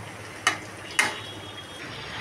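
A spoon stirs dudh lau, bottle gourd simmering in milk, in a pot, giving two short scraping knocks against the pot over a soft, steady background hiss.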